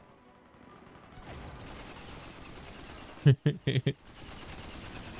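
Two quick loud bursts of automatic gunfire in a sci-fi shooter game ring out close and sharp after a stretch of quiet background, with a brief spoken word near them.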